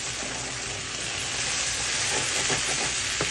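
Cut prawns going into a hot pan and frying, a dense, loud, unbroken hiss of sizzling oil close by, with a few faint clicks of a utensil toward the end.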